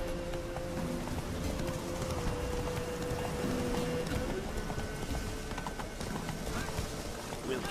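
A horse gallops steadily in the video game The Witcher 3, its rhythmic hoofbeats running throughout at moderate, close range over faint ambient background.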